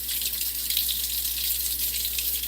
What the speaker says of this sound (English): I'm just rinsing this under hot water so I can